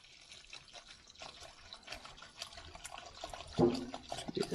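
Water runs into a plastic tub in a garage, a steady splashing, filling rush that grows louder and fuller toward the end, close to the mic with no talking.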